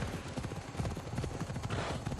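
Rapid rhythmic hoofbeats of a galloping horse in a video game, steady and close, with a busy game soundtrack mixed underneath.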